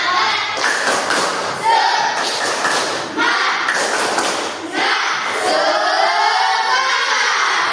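A class of schoolchildren performs a patterned group clapping chant, loud thumping bursts of hands in unison separated by short pauses, with voices chanting and a teacher talking throughout.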